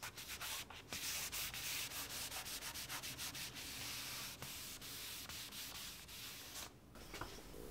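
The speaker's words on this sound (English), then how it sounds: "After sanding the faces to 180 as per the maximum grit recommended by the finish manufacturer" Sandpaper at 180 grit rubs steadily across the faces of a wooden desk, a close, continuous hiss broken by brief pauses between strokes.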